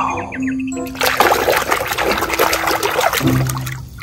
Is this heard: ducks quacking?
no